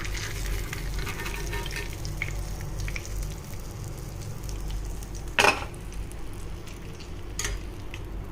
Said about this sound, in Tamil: பொன்னிறமாக வர வரைக்கும் பொரிச்சு எடுக்கணும்